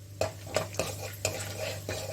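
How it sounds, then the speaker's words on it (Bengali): A spatula scrapes and stirs peanuts frying in a pan in several quick strokes, over a soft steady sizzle and a low hum. "বাদামটাকে ভেজে নিচ্ছি"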